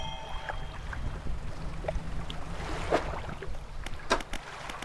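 A small boat sails around islands and inlets in the fishing game Dredge, a low steady hum of water and engine with faint splashes and a few light clicks.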